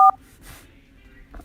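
Keypad dialing tones on a Google Pixel 3: one short, clear tone at the start, followed by quiet room noise and faint movement.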